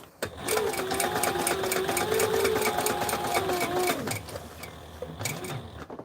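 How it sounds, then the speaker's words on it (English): A Sailrite sewing machine stitches flight suit fabric with a steady mechanical whir for about four seconds, then stops, followed by a few short bursts of stitching close to the microphone. "bury the needle, lift the presser foot, and continue on with the sew."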